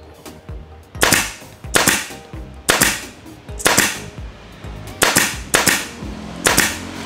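A pneumatic brad nail gun for interior carpentry fires six sharp, loud, close cracks at slightly irregular intervals, each with a quick ringing decay.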